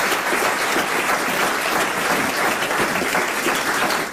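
A studio audience at a French radio comedy panel show applauds steadily, dense and even clapping filling the room with no voices on top.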